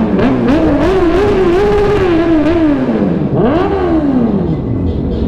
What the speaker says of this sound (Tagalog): Yun, bumomba rin yung Corvette.